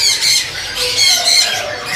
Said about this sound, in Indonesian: yang udah ditanin ini ada burung robin, robin jantan